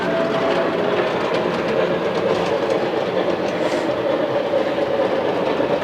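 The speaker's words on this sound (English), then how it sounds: "So now what he'll do, we have another train coming." A model train runs along layout track, its steady clickety-clack and rolling rumble filling the scene at a constant close level with no voices.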